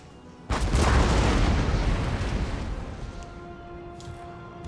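Artillery batteries fire in Napoleon: Total War, a loud, deep booming blast that erupts suddenly and rolls on, rumbling as it slowly decays.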